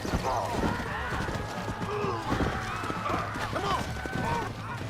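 Horse hooves clip-clop steadily in the Red Dead Redemption video game, with a continuous rhythmic patter under game ambience and a low hum throughout.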